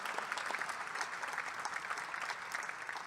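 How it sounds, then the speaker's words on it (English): Faint, steady applause from the room at a university basketball coach introduction press conference, continuous and distant throughout the brief stretch. "let me give that a round of applause."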